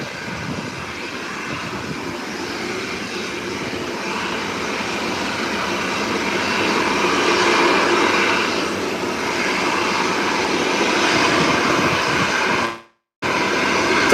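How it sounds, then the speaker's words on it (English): A Delta airliner from Washington, D.C. taxis after landing, its jet engines giving a steady, broadband roar that swells slightly midway and holds, followed by a brief dropout near the end. "Delta out of Washington, D.C. has just landed. It's now taxiing"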